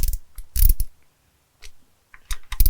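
A ratchet clicks while snugging head studs on a 6.0L Ford Powerstroke truck engine. Loud, close bursts of rapid clicks start and stop, separated by a near-silent gap and a few lighter clicks.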